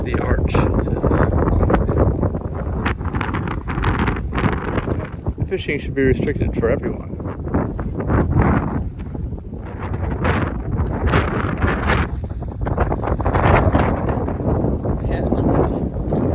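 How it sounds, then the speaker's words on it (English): Strong gusting wind buffets the microphone beside a sea arch in Hawaii Volcanoes National Park, a loud constant roar with rumbling bursts, while a person talks over it. "Yeah, it's windy."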